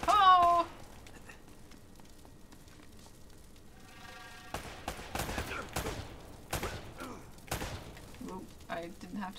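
Gunfire in Uncharted: Drake's Fortune on PS4 as an enemy is shot, several sharp bursts of shots with a few thuds, mixed with game sounds and a short loud burst near the start.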